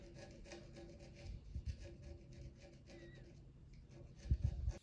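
A Victorinox Scientist pocket tool's sharp edge gently scraping gunk off a surface, giving a soft, close, continuous rasping rub with brief louder scrapes near the end.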